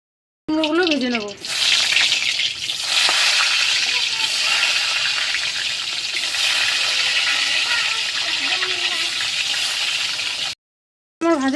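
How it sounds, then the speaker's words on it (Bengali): Pumpkin pieces fry in hot oil in a pan, giving a loud, continuous hissing sizzle that runs almost unbroken for about ten seconds, with faint bubbling and a scrape near the start. "কুমড়োগুলো ভেজে নেব।"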